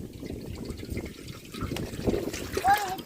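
Water trickles and splashes as it is poured into a pot for making Yippee instant noodles, a soft continuous pour under a person talking.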